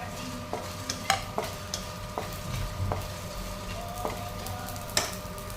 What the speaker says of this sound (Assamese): ইয়াতে কেৰাহীখন গৰম হৈ যোৱাত মছলাখিনি অকণমান ভাজি লওঁ